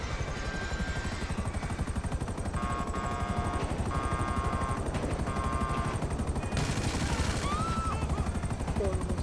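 A helicopter's rotor thumps steadily and loudly throughout in GTA 5, with engine drone, brief whooshes and electronic game effects layered over it.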